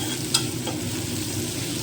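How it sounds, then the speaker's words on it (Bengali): Onions frying in a pan with a little salt, browning lightly: a steady close sizzle with a brief stir or scrape near the start, no talk. "পেঁয়াজটা একটু হালকা ব্রাউন করে ভাজা হতে থাকে"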